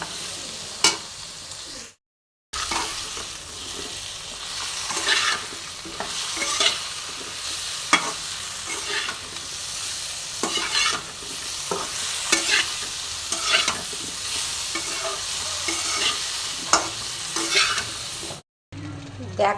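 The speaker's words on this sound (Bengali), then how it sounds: "দিয়ে এবার খুব সুন্দর করে আমি এটা মাঝারি ফ্লেমে ভেজে নেব, সমস্ত সবজি একসাথে" Vegetables seasoned with salt and turmeric fry together in a pan over a medium flame, a steady sizzle broken by repeated sharp scraping stirs, with two brief silent gaps.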